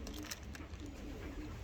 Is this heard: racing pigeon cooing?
yes